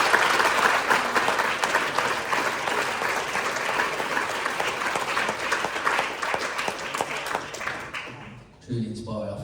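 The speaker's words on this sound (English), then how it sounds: "Round of applause," Business breakfast club audience giving a sustained round of applause, dense and fairly loud, lasting most of the clip before fading out as a voice starts at the end.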